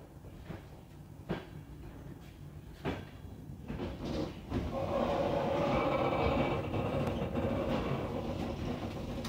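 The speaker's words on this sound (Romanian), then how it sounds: "Celălalt tren care vine dinspre Suceava." Passenger train from Suceava pulling into a Romanian station to couple with the Botoșani–București IR 1754 service: a few sharp clanks and thuds, then a loud, sustained rumble and screech of wheels on rails as cars roll past close by.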